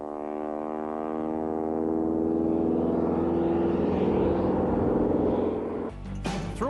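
A propeller aircraft in flight drones steadily with a harmonic engine hum that slowly swells in pitch and loudness, then cuts off abruptly into a burst of crackling noise near the end.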